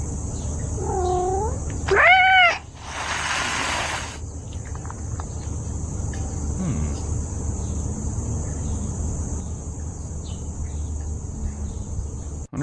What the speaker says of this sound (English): Wonder what cats are thinking when they're doing that.